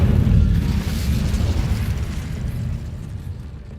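Fiery Incendio spell blast from the Hogwarts Legacy video game, a loud booming burst that rumbles heavily at first and slowly trails off over several seconds.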